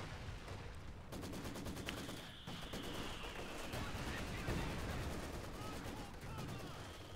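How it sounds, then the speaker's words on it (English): A Maxim machine gun in Company of Heroes 2 rattles in rapid continuous bursts amid other battlefield gunfire, steady and fairly loud throughout with a brief gap early on. "the Maxim there are going rat-a-tat-tat"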